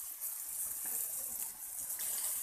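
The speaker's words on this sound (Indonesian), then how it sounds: "disiram full dari atas sampai bawah" Water from above pours steadily over a Streblus asper bonsai, a soft continuous hiss and patter of spray on leaves and soil, close and even throughout, with no voices.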